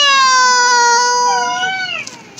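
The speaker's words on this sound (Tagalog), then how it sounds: "This is the cat." A cat gives one long, drawn-out meow that wavers and slides downward at the end, close and clear. A couple of faint clicks follow.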